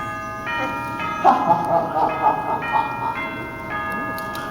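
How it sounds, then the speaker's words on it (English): A bright two-tone chime rings repeatedly in a steady rhythm, with a voice speaking faintly underneath. "Now run along and answer that doorbell"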